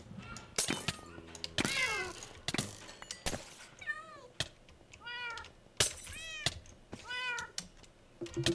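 Several cats meow repeatedly in a Minecraft modpack, their rising and falling cries coming in bursts between sharp clicks and knocks, with some talk mixed in.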